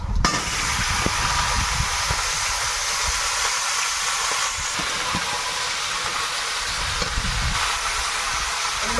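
Pumpkin pieces fry in hot oil with bay leaf and dried chilies, giving a loud, steady sizzle and hiss that runs unbroken throughout, with faint clinks of a utensil underneath.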